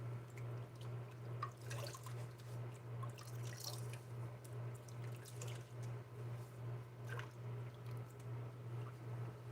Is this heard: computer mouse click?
no